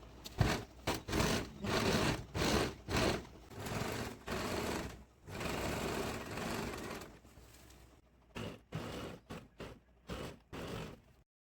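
A sewing machine stitches a Kanjivaram silk saree blouse in repeated short runs of rapid mechanical chatter, close and fairly loud, broken by brief pauses and one longer continuous burst.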